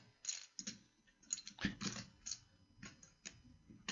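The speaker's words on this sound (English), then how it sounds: "These are really good at shuffling chips." Rapid clicking and clacking of poker chips being riffled together at a poker game, a quick run of light, close taps repeating in bursts.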